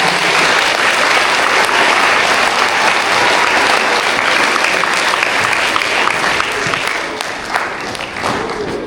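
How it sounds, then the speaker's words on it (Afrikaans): A school hall audience claps for an item performed by Grade 1 to 3 pupils, steady dense applause filling the room from start to finish and easing slightly near the end. "Dis klap van hulle."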